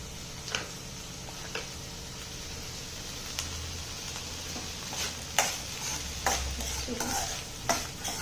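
Vegetables and cabbage stir-fried for a veg Maggi noodle dish, a soft continuous sizzle with scattered sharp clicks and scrapes of the spatula against the pan, a few louder knocks near the end, no talking.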